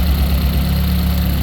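A Ford Focus ST engine idles during a controller test, a loud, steady low rumble with a faint rhythmic pulsing running through it and no voices.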